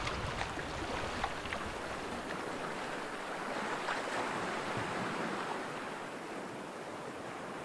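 A canoe paddled out on a favorite lake in winter gives a steady, soft wash of water and paddle swish, continuous broadband noise with faint splashes, no voices.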